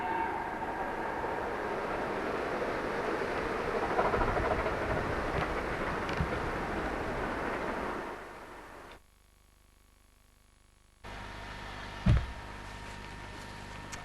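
A train on the North York Moors Railway rumbles loudly past for about eight seconds, then drops away to near silence before quieter outdoor ambience returns with a single low thump.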